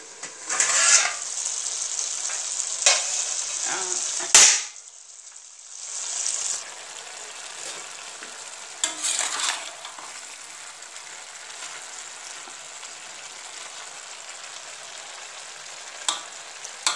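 Potatoes, carrots and peas cook in a pan over medium heat, a soft continuous frying hiss with a few louder scrapes and clatters of stirring, including one sharp knock, and no voices.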